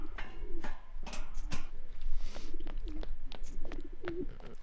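Pigeons coo repeatedly in a video game, soft throaty calls rising and falling over a background of short sharp clicks and knocks, with no speech.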